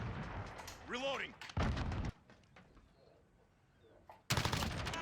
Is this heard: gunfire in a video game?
yes